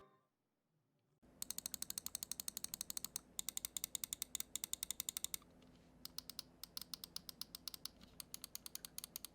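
Scroll wheel of an Aerox 3 Wireless gaming mouse rolled in bursts, giving rapid, evenly spaced tactile clicks, close and crisp, with short pauses between runs and no talking.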